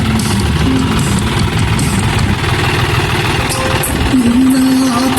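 A tractor engine idles steadily and loudly in a farm field, a continuous low rumble with a tonal hum drifting in pitch.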